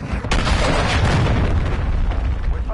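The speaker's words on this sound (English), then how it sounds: "Hostiles launched a cruise missile." A cruise missile strike lands in a Modern Warfare III match, a sustained loud booming rumble with a sharp onset that fills the whole stretch, dense low-end roar continuing without a break.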